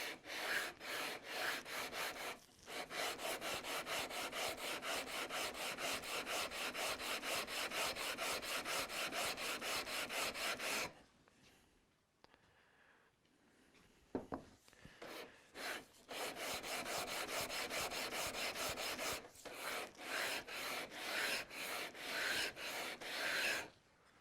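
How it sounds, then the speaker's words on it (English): A sanding block radiuses a wooden Telecaster fretboard with fast, regular back-and-forth strokes, each a close, gritty rasp, in long runs broken by a quieter pause with a few knocks before the stroking resumes. "I'm going to switch to the sanding block and see if I can't take that last little bit of radius down purely with the sanding block"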